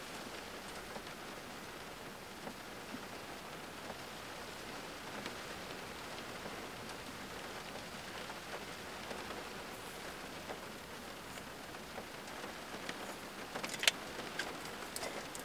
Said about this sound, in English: It is raining a lot lately.